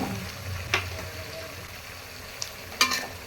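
Cooked dal stirred into potatoes and drumstick frying in a pan, a soft continuous sizzle with a few sharp spoon scrapes against the pan, close and fairly quiet.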